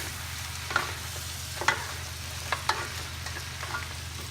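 Pork pata humba with black beans being stirred in a pan, a few distinct scraping clanks of the utensil spaced out over a steady low simmering hum, no voices.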